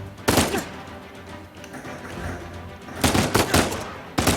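Gunfire in the Uncharted 4 action game, with a loud burst of shots near the start, a second rapid cluster of shots later and a final shot at the end, separated by quieter ambience.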